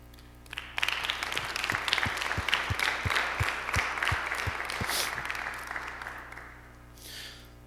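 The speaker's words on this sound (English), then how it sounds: "give yourselves a round of applause for being willing to be here" Audience members at a Transgender Day of Remembrance gathering applaud, a sustained ripple of many hands with some steady, heavier claps standing out, swelling quickly and fading away after about six seconds.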